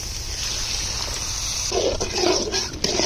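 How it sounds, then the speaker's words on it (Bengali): Water is poured into a pan of prawn curry cooked with coconut paste in a village kitchen, a close, steady rushing splash that swells midway over the sizzle, with no voices. "পরিমাণ মতো পানি দেব"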